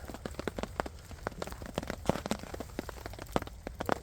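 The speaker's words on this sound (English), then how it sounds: "it's snow melting from the trees on the top. It does sound like rain though" Snowmelt dripping from trees in a winter woodland, with irregular close and distant drops pattering and ticking steadily like rain, some sharper individual splats standing out.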